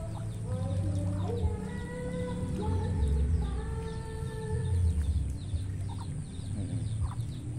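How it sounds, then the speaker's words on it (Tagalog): Muscovy ducks near a newly planted rice paddy beside a house give repeated short, nasal calls in loose bursts, moderately close over a quiet outdoor background. "Pirasong Muscovy duck."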